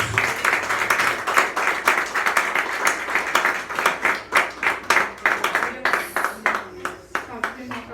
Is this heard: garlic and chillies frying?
no